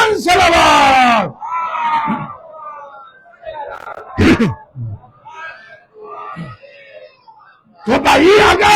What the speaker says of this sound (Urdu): بہت بلند صلوات۔